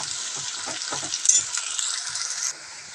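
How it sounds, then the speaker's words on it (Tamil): Perandai (adamant creeper) sautés in a pan with a bright, steady sizzle and soft stirring scrapes, the hiss easing slightly near the end. "ஸோ ஒரு 10 minutes ஆகும் இது நல்லா வதங்கி எடுக்கிறதுக்கு"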